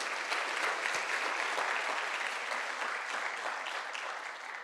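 Steady, full applause from a church congregation during an Easter sermon, a dense wash of clapping that stays loud and even throughout and fades slightly at the end.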